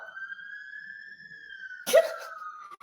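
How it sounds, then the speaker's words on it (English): A steady police siren tone holds on and slowly shifts pitch in the distance on a busy street, broken briefly by a sharp nearby burst of noise. "Come on, sirens, please hush."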